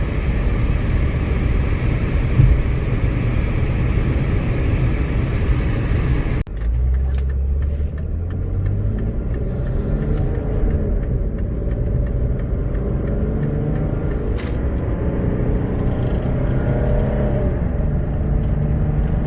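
A Mercedes-Benz E300 diesel drives downhill at about half throttle with a constant low engine drone and road rumble, a sharp shift partway through, then smooth cruising noise.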